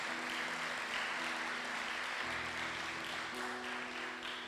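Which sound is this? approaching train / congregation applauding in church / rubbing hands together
congregation applauding in church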